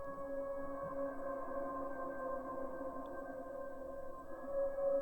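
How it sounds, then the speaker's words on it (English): Sustained, dark Rhodes electric piano tones hold a low, hazy chord that drones steadily with a soft, haunting shimmer and no other sounds. "So next we have this kind of Rhodes ambient dark sound."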